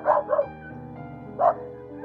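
Dog barking at a rural home in the Philippines: two quick barks close together, then a single bark about a second later, loud and near with no talk over them.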